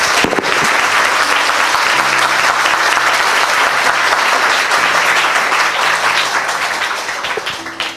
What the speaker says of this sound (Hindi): आइए खुदा के लिए एक जोरदार ताली बजाएंगे आज।